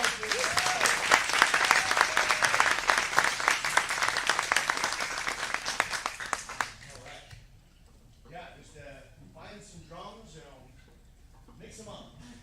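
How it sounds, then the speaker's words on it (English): Audience applause at a taiko drumming showcase, a dense burst of many hands clapping loudly for about seven seconds before fading into scattered voices and talk. "Applause for yourselves, please."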